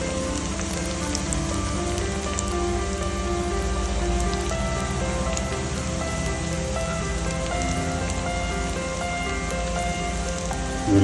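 Chopped ginger sizzles with onions in a hot pan for a Kuttanad-style shark fish curry, giving a dense, even crackling hiss that runs steadily throughout.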